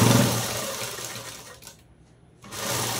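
A sewing machine stitching a blouse design runs as a steady, close mechanical whir, briefly stopping partway before starting up again.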